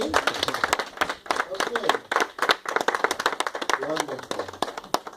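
Scattered, uneven clapping from a church audience at a Valentine's couples dinner, sharp individual claps that come and go while someone speaks over them.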